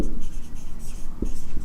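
Pen writing on paper during a maths lesson, a continuous soft scratching of strokes close by with a brief knock partway through, no voice over it.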